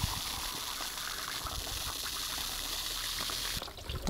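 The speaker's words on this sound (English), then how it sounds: "we're just gonna give it a quick flush through by just running some water through the header tank" Water runs in a steady hissing gush through the coolant header tank of a Range Rover P38 being flushed out, a continuous close trickle and splash that thins out near the end.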